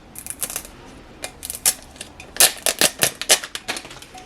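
Transfer tape peeled gently off a DIY tumbler, a close series of sharp crackling rips and taps in irregular bursts, growing denser midway, with no talking.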